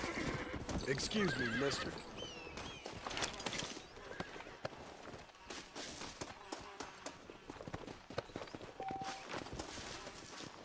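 Horses in the Western video game Red Dead Redemption whinny and neigh repeatedly while hooves clip-clop steadily, with game speech and other sounds layered over them.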